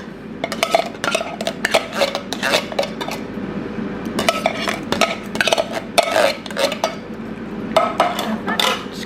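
A tinned three-bean salad, a cheap Tesco one, is stirred in a pot with a utensil, giving repeated scraping clinks and clatters of metal on metal in uneven bursts, close and fairly loud.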